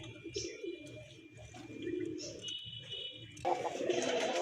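A pair of big Raj Golla pigeons coos steadily at close range in a low, throaty rolling rhythm, with a brighter rustle of movement rising near the end.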